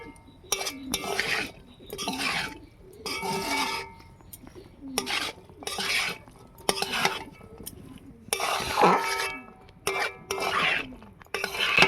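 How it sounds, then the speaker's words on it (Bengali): Cabbage and chickpeas stirred with spices in a pan, heard as repeated loud bursts of spatula scraping and clinking against the metal pan with short pauses between strokes and a faint sizzle beneath. "ভালো করে মশলার সঙ্গে কষিয়ে নিতে হবে এইভাবে মশলার সঙ্গে ভালো করে কষিয়ে নেবেন"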